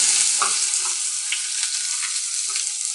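Chopped onion sizzling in hot oil with fried chana dal and urad dal, a steady close crackling hiss with occasional stirring scrapes and no talk.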